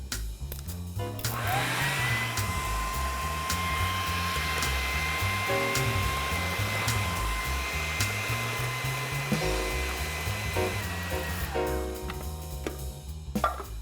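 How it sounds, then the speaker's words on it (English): A kitchen food processor runs continuously, loud and close, as blocks of butter are added to pastry dough with caster sugar, a steady whirring drone with a few small shifts in pitch as pieces drop in. "Cut it into blocks, and with the machine running, we'll add a block at a time."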